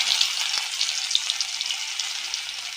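Garlic paste sizzling in hot tempering oil for potato dal, a dense steady crackle with small pops, close and loud throughout.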